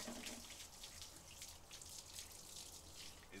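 Water streams from a garden hose outdoors during a dog bath, a soft continuous spattering hiss with uneven splashes, faint and fairly distant, no talking.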